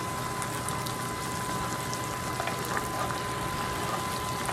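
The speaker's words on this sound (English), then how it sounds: "Just trying to cook out most of the liquid." Liquid from an artichoke frittata mixture cooks off in a pan, giving a steady, fairly loud bubbling and sizzling hiss that holds evenly throughout.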